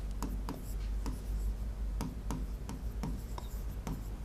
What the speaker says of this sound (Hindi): विविध में हम एक लिखेंगे चौधरी रहमत अली खान का।